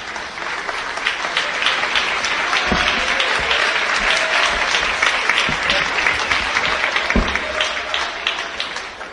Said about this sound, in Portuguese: podem louvar a Deus com as palmas